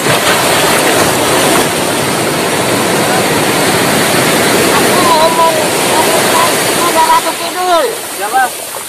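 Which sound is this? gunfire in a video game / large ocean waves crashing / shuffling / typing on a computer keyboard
large ocean waves crashing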